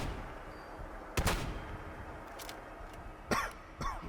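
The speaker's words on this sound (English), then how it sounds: "the double-barreled shotgun has a really satisfying noise when you fire it" A double-barreled shotgun fires in a horror video game, a few sharp booming blasts spaced apart over a quiet background, with no talking.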